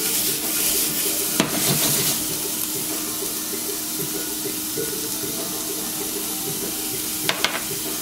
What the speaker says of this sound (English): We're gonna add these onions.